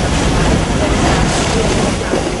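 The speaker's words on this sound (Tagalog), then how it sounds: "Malakas ang hampas ng alon at naramdaman naming binabayo nito ang aming barko" Heavy waves batter a ship at sea during a typhoon at midnight, a loud continuous roar of surf and wind noise with the hull rocking, no clear individual impacts standing out.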